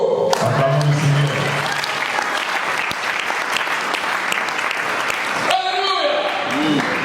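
Church congregation applauding in a dense, continuous wave of clapping, with voices calling out above the applause throughout.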